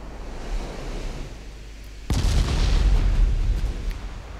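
Naval guns fire in the game Ultimate Admiral Dreadnoughts: a sudden loud boom cuts through steady sea-like rumble, then a long rolling low roar trails off as shells land.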